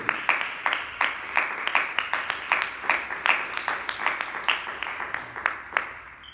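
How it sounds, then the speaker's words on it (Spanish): A church congregation claps in praise to the Lord, steady rhythmic hand claps at roughly three per second, moderately soft, continuing evenly throughout. "Den un aplauso al Señor"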